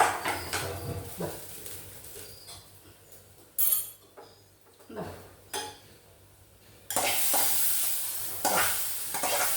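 Hot tempering is scraped from a pan into ripe native-mango pachadi, with clinks and scrapes of a spoon on metal, then a sudden louder sizzle that holds to the end; no talk.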